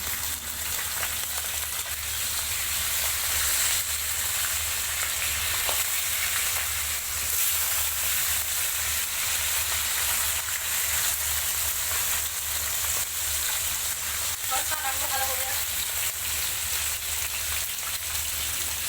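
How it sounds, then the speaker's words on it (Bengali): Pomfret fish fry in a pan of oil, producing a loud, dense and unbroken sizzle that holds steady throughout, heard up close with no talking. "তারপর কমপ্লিট মাছগুলোকে একটা একটা করে দিয়ে সুন্দর করে ভেজে নিতে হবে"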